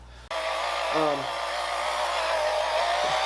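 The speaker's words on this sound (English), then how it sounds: "I'm using the rotation of the machine, and I move the machine in a clockwise manner" A rotary polishing machine works a granite surface with a steady, loud whine that starts abruptly and holds throughout, its pitch wavering slightly as the machine is moved in circles.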